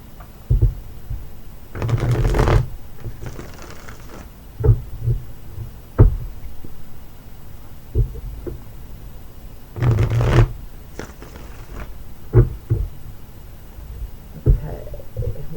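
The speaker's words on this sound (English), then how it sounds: "we're going to shuffle up these cards, Signs from Spirit, Love Oracles." Oracle cards from a Signs from Spirit love oracle deck being shuffled by hand, giving bursts of riffling and slapping in short repeated rounds with quiet gaps between, close and moderately loud, with no talking.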